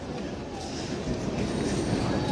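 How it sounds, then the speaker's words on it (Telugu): The Nagavali superfast train passes at a station platform, arriving late, and gives a continuous, fairly loud rolling rumble of carriages and wheels that holds steady through the clip. "Nagavali super fast train."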